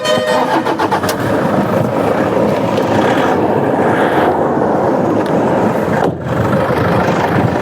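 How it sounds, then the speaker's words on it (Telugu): A car engine cranks with a rapid rattling burst, then catches and runs loudly and steadily close by. "ఇంజన్ కూడా ఒకసారి చూపిస్తాను మీకు స్టార్ట్ చేసి"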